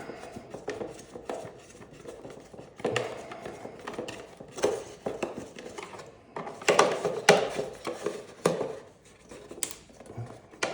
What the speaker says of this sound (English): This top one, you can take a Phillips screwdriver and remove these screws.